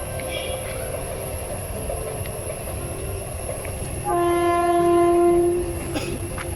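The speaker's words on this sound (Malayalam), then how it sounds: "ട്രെയിൻ വരാൻ ടൈമായിരുന്നു" A train arriving with a steady rolling rumble, then a long, loud horn blast partway through that rings out for over a second before the rumble continues.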